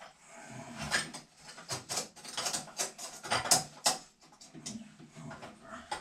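Intermittent ratcheting and metallic clicks from a part being tightened during a vintage American Standard toilet rebuild, moderately quiet and irregular, in short bursts with pauses.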